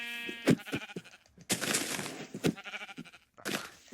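Sheep bleating in Minecraft, several short wavering bleats in quick succession at close range, mixed with crunchy game sounds and no talking.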